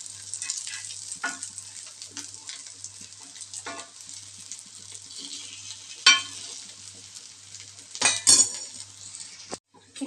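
Vegetable cutlets fry in a pan with a steady, bright sizzle throughout, broken by a few sharp clinks of a utensil against the pan.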